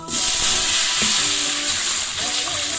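Water poured into a hot pot to cook rice for Kollam biryani bursts into a loud, continuous roaring sizzle and hiss that stays strong and close for the whole stretch, with no talk.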